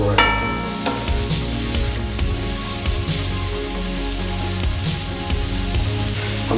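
Lamb pieces sizzle and fry loudly in a hot pan for a curry, steady crackling spatter with scraping and clinking as the meat is stirred around, close up and without talk.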